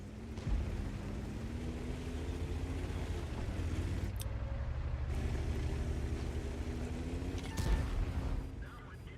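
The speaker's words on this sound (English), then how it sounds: "So he bounces his first shot off the T-103. The T-103 misses him." Tank cannon fire in the World of Tanks video game, with a couple of sharp, loud shot blasts standing out over a steady low engine rumble and a voice talking throughout.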